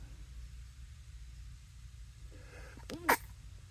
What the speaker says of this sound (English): Oh, I held in a sneeze.